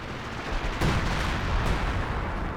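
An artillery barrage lands in a Company of Heroes 2 battle, giving a dull rumbling roar with a couple of sharper blasts, distant and heavy, with no talking.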